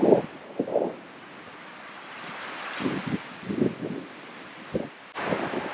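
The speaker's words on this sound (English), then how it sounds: "You can, I'm sure, hear the wind." Wind gusting through trees beside a lake in Montana, a soft steady rush with buffeting bursts against the microphone, fairly faint and without talk.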